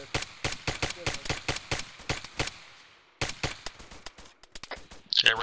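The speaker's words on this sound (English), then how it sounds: "we're taking fire from all sides now" Rapid bursts of gunfire in the military shooter game Arma 3, loud sharp shots repeating in quick succession, a short pause, then another volley, with a brief bright crack near the end.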